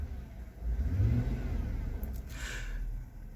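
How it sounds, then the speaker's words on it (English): Jeep YJ engine revving in short throttle blips, a loud low rumble rising and falling close by, with a brief higher whine partway through and no talk. "I'm just blipping the throttle just a little bit."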